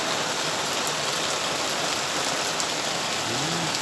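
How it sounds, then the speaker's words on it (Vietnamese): Heavy rain falls without pause in a rural upland village, a dense, even roar of drops on surfaces filling the whole scene, steady and loud with no voices. "Thời tiết mưa quá bà con,"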